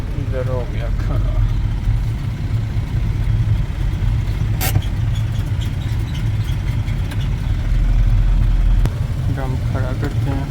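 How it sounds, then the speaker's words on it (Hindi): A truck engine idles steadily while the vehicle is parked at a Japanese truck auction lot, a loud continuous low rumble throughout with brief voices near the start and end. "इधर ट्रक खड़ा करना है।"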